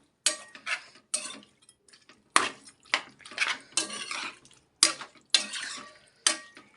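Chicken pulao masala stirred in a pot, with repeated scraping and clattering strokes of a spoon against the metal in an irregular rhythm, close and fairly loud, separated by brief quiet gaps.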